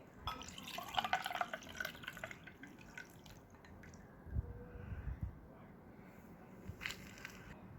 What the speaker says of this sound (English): pour the lemonade into the cup